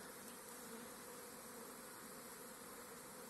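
Drone bee flying around a beehive in July, a steady, dense buzzing hum of insect wings that stays loud and even throughout with no voices.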